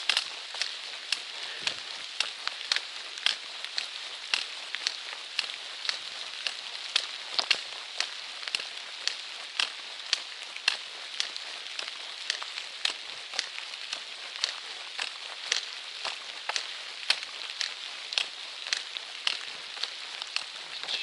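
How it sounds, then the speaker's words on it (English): Light drizzle pattering steadily on a woodland road, soft and faint, with scattered sharper drops ticking close by throughout. "And it's starting to rain."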